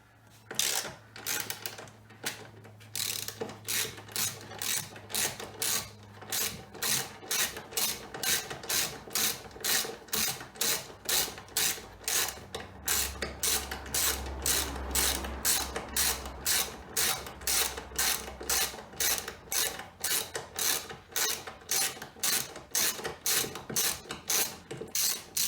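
A ratchet removes aluminium fasteners from the rear door B-pillar trim of a Porsche Panamera 970, clicking in a long, steady, rapid run of close mechanical ticks with brief pauses between strokes.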